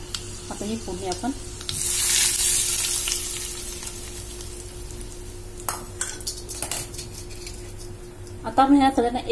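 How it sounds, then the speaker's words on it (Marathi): Mustard tempering spices crackle and sizzle loudly in hot oil, prepared for an instant raw mango pickle, with a strong burst of hiss and scattered pops, while a voice talks briefly near the start and end. "आपल्याला याला गॅसवर ठेवून हे जे काही आहे ते चांगलं तडतडू द्यायचं आहे"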